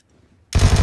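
A burst of rapid SMG fire in the PUBG video game cuts in abruptly after a near-silent half second, loud and dense with fast repeating shots.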